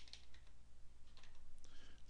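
Keystrokes on a computer keyboard as a network router command is typed, a quick run of light clicks over a steady low hum, fairly close and alone with no talk.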